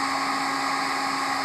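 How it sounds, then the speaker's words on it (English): Hair dryer blowing steadily to dry wet paint on a canvas, a constant loud whooshing drone with an even hum that holds without a break, with no talk. "So I get the blow dryer."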